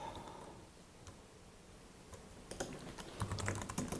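Keys pressed on a computer keyboard while stopping a web server on a Raspberry Pi, quiet scattered clicks growing into a denser burst of taps near the end.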